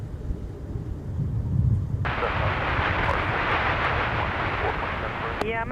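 An airliner taking off at Minneapolis–St. Paul airport: a low rumble gives way to a sudden broad, loud jet roar that holds steady, with faint voices underneath.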